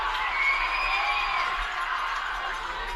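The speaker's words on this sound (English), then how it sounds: "Crowd is ready for this one here. Decibels raising here at Stewart Field." Football crowd at Stewart Field, a steady, distant murmur and swell of voices with faint cheering, under a commentator talking.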